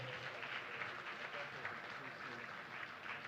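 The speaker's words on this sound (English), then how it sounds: "On va les applaudir encore une fois, s'il vous plaît." Sustained applause from an audience, a steady wash of many hands clapping at moderate distance.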